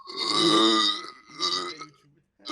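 A man lets out a long, loud, close burp, then a second shorter one, with a brief pause before another begins at the end.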